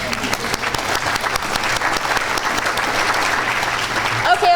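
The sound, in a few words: audience giving themselves a round of applause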